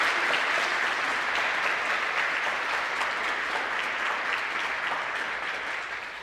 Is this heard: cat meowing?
no